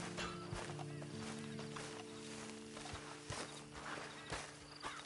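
Horse hooves clip-clop at a walking pace in Red Dead Redemption 2, a steady close rhythm of footfalls over a low background drone with faint ambient sounds.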